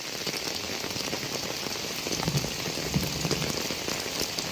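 Heavy rain pours steadily in Kozhikode, a dense, even hiss of drops striking surfaces close by, unbroken and without voices.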